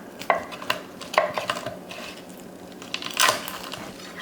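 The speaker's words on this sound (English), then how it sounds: "This piece right here, we'll just chop down through." A cleaver chops down through pieces of smoked turkey cooked in a barrel cooker, with several distinct knocks on a cutting board and a final firmer tap near the end.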